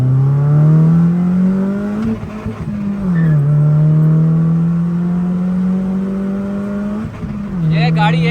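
A tuned car's engine revs loudly up close under hard acceleration, its pitch climbing steadily, then briefly dropping at each gear change before rising again.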